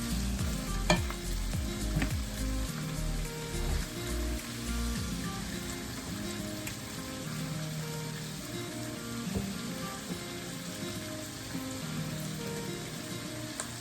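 Steady sizzling of chicken searing in hot coconut oil in a skillet, loud and close, with occasional stirring scrapes and pops throughout.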